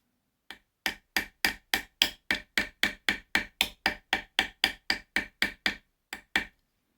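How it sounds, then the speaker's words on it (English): A hammer peens a pivot pin in a run of about twenty sharp metallic taps at a steady, brisk pace, close and clear, with a short pause before the final two strikes. "I'm going to start peening more firmly"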